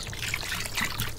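Cooking wine trickles and pours into a pot of whole-sheep mutton stew with scallion and ginger, a steady close liquid splash and dribble lasting about a second.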